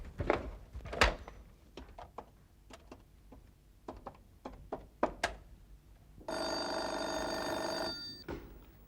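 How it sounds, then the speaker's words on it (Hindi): A telephone bell rings in a sustained burst of about two seconds, preceded by scattered knocks and thumps. "मैं रवि अंकल को फोन करता हूँ।"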